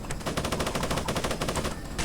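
Rapid aircraft guns fire at a mech in the Roblox game Military Tycoon, a dense, continuous stream of loud bursts filling the full two seconds with no pauses.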